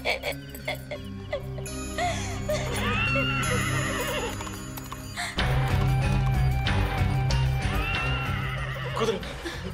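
A horse whinnies with rising, wavering calls over a dense layer of dramatic music and effects in a tense Tamil supernatural television drama scene.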